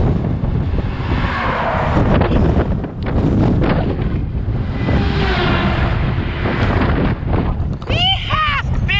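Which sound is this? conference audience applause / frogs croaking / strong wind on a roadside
strong wind on a roadside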